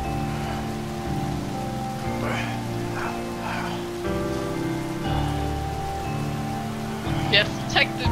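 Steady rain falling in the video game A Way Out, a continuous hiss of drops on surfaces running throughout, with music underneath and brief voices near the end.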